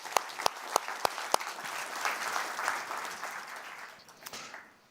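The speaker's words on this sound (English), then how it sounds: "and if you allow, this applause for you." Audience applause at an international security forum in Halifax, beginning with a few sharp, separate claps that swell into a full, sustained round from a large hall before tapering off near the end.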